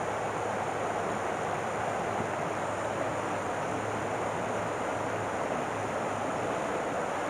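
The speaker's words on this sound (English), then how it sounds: "Just listen to the sounds of the river." A river flows past a bench among trees outdoors, giving a steady, unbroken broadband rush of water that stays even and close from start to finish with no voices.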